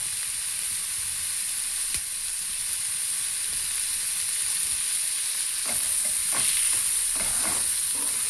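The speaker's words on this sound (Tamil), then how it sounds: "அப்படியே நல்லா வதங்கணும்." Dried red chillies, broken by hand, sizzle while frying in a pan for a ragi adai dish, a loud continuous hiss with a few stirring scrapes toward the end.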